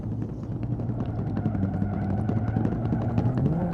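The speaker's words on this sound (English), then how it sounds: "And that sound is the flat tire." A crippled car driving on a flat tire in BeamNG.drive gives a continuous rumbling drone with a rapid, regular flapping beat from the damaged wheel, steady and fairly loud throughout.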